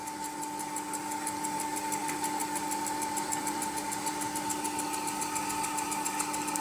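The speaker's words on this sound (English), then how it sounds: "Let that wind off and watch the auto cutout work." An Akai GX4000D reel-to-reel tape recorder winds tape at speed with a heavy spool on the left, giving a steady motor whir and a fine rapid ticking that run unbroken and fairly loud throughout.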